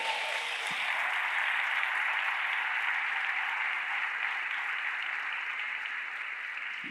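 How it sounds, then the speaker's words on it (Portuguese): Church congregation applauding, a steady even wash of clapping that carries on at the same level for the whole stretch with no talk over it. "aplauda o nome de Jesus, meu irmão."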